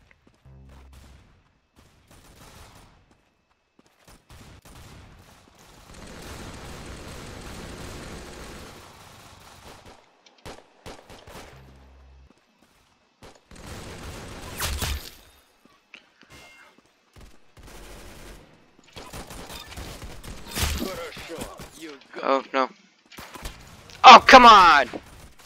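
Gunfire in a video game comes as scattered bursts of shots and impacts, some sharp and loud, others faint, separated by quiet gaps, while a player talks now and then.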